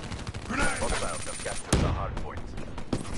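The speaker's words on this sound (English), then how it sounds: "You're shooting at your own teammate." Gunfire in Call of Duty: Black Ops 3 on the Nuketown map during a Hardpoint match, a dense run of shots with a sharp loud burst near the middle, mixed with game noise and talk.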